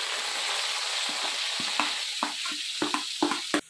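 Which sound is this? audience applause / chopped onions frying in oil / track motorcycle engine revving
chopped onions frying in oil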